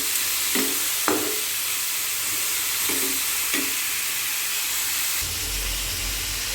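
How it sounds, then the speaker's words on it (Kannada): Vegetables frying in a pan for Maggi noodles, a steady loud sizzle with a few brief stirring scrapes and a deeper bubbling swell toward the end, no talking. "ಹಾಕಿ ಚೆನ್ನಾಗಿ ಫ್ರೈ ಮಾಡಬೇಕು."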